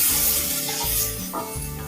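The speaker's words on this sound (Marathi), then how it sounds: "कढईमध्ये घालायचा एक टोमॅटो लहान साईजचा एक टोमॅटो घेतला तो आपण आता भाजून घ्यायचा" A small tomato roasts in a kadai, giving a steady close sizzle with a soft hiss under low background hum.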